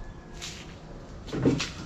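A newly installed kitchen cabinet drawer slides and bumps shut with a single muffled wooden clunk near the end, over a quiet room hiss.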